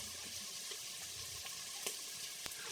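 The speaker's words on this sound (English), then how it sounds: "the residual heat will continue to saute our bacon, egg, and garlic combination down in the bottom here" Bacon, egg and garlic sauté in the bottom of an Instant Pot pressure cooker on residual heat, giving a soft, steady sizzle with faint crackles and a couple of small ticks.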